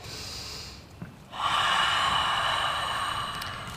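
Someone draws a short sharp breath, then lets out a long, steady breath while holding a Pilates stretch, close to the mic and quiet, with no talk.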